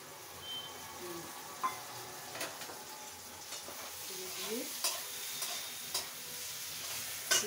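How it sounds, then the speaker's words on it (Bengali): A spoon stirs fried potatoes into an omelette muri ghonto in a pan, giving soft scrapes and a low sizzle, with sharper clinks of the utensil against the pan at intervals. "এবার আলু সিদ্ধটা দিয়ে দিচ্ছি, আলু যেটা ভেজে রেখেছি সেটা দিয়ে দিচ্ছি।"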